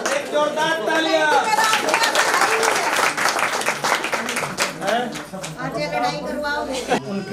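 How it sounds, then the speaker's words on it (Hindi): Loud, sustained applause from a gathered crowd at a school retirement function, swelling in the middle while a voice talks over it at the start and again near the end. "एक जोरदार तालियां।"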